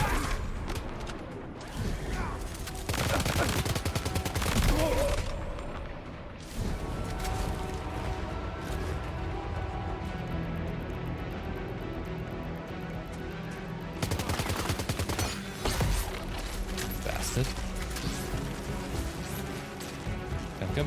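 Bursts of gunfire from the video game Death Stranding 2, with heavy loud volleys early on and again near the end, set over a dense continuous game soundtrack.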